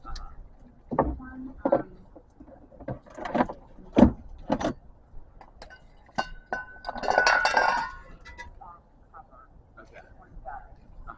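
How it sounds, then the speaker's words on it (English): Front brake caliper being compressed with a tool on a 2014 Scion xB: scattered sharp metallic clinks and knocks, then a short grinding, rasping burst, all close by in a quiet garage. "Now I'm going to compress the caliper."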